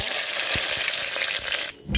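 Mustard seeds sizzle and crackle in a tablespoon of hot oil in a silver steel pot on a gas stove, a steady loud frying hiss with a few sharp pops, briefly dropping away near the end.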